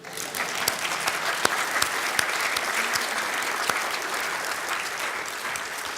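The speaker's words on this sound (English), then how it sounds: "That's a second round of applause, I think." Audience applause in a church gathering, a steady dense wash of many hands clapping with sharp individual claps standing out, continuous and fairly close throughout.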